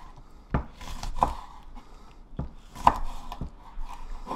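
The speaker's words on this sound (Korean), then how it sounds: "고추는 단계만 썰어도 돼." A knife chops green chili peppers on a cutting board for a braised flounder dish, giving sparse, sharp, close thuds at irregular intervals with quiet pauses between.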